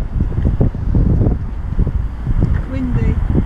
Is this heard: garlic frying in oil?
no